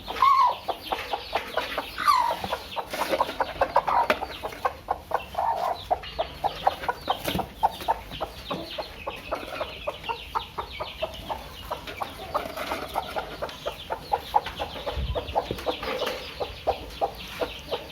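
A broody hen on a poultry farm clucks steadily and close by, a dense run of repeated clucks with occasional louder calls throughout, no talking over it.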